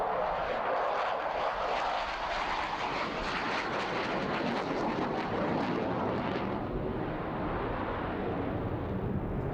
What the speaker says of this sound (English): a very advanced Saab BAES JAS 39A Gripen with its canard wing in front of the main wing replaces the tailplane